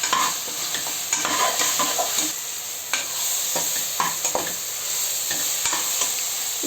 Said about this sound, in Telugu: ఒక 5 నిమిషాలు అల్లం వెల్లుల్లి పేస్ట్ వేయించుకోవాలి.